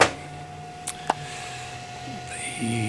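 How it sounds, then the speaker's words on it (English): A steady cooling fan hum from a power supply and antenna combiner for Sennheiser in-ear monitors drones alone at low volume, with a constant whine, a couple of brief clicks, and a faint shift near the end. "all the fan noise you hear"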